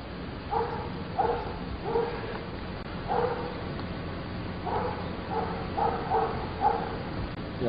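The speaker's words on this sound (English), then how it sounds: "A lovely recording of the neighbor's dog." A neighbor's dog barks repeatedly at a distance, in clusters of two or three yips spread irregularly over several seconds against a steady outdoor background hum.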